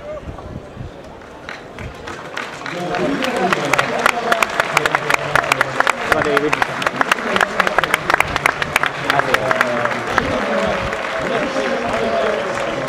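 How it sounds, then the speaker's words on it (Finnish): A football stadium crowd claps steadily in a dense, rhythmic patter that swells after a couple of seconds, with chatter and voices from nearby spectators running underneath. "Pakko taputtaa."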